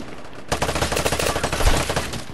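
Rapid gunfire in the PS4 shooter Vigor, a loud close burst of shots starting half a second in and rattling on continuously, with one heavier low thump partway through.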